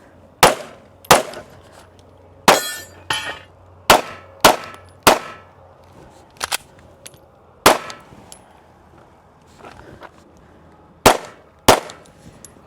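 Sharp gunshots at a shooting competition stage, about a dozen loud, close cracks in quick irregular bursts, some with a metallic ring, separated by short pauses.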